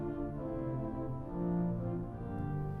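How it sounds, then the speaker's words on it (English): Principal stops on a 1906 Felgemacher pipe organ hold a sustained chord, steady harmonic tones with a slow swell in the middle, close and alone with no voices. "So we've got principals."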